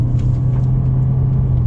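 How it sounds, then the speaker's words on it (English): Toyota Corolla Cross Hybrid engine held at full throttle, a steady loud low drone with a constant rumbling hum and no breaks. "Let me show you what happens when I floor the car a bit and hear the engine note."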